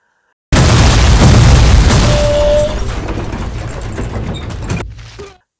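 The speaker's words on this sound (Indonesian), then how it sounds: "Hingga ketiga mobil tersebut menjadi meledak" Three cars blow up one after another in an Indian action film scene, a loud sudden boom opening a long roaring, crackling blast that slowly fades away, with no voices.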